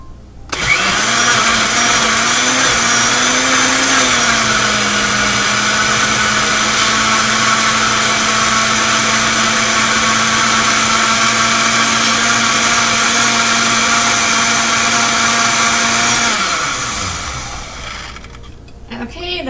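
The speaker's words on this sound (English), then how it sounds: "So now I'm going to blend it all up." A blender whirs mango, banana and milk into a lassi, a loud steady motor drone with a slight pitch dip early on, running continuously for about sixteen seconds before spinning down and stopping.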